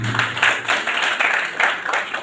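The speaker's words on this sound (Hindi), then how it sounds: "अपनी अपनी माँ के लिए ताली जरूर बजाइए" A crowd at a commemorative gathering claps together in a loose, rhythmic pattern, moderately loud and close, with the claps pulsing in waves rather than blending into a smooth roar.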